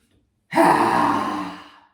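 A single forceful breath drawn through the nose during a pranayama breathing exercise, loud and close, rising abruptly and fading over about a second and a half with nothing else around it.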